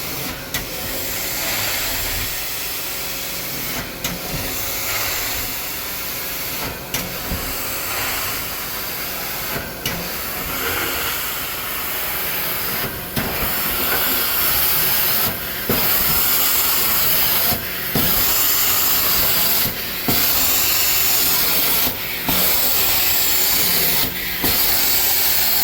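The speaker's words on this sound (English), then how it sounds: "I'm spraying water all over the carpet" An Amtex Stack 570 steam carpet cleaner sprays hot water onto carpet with a steady, close hissing wash that carries on for the whole stretch, with brief dips and surges as the wand moves.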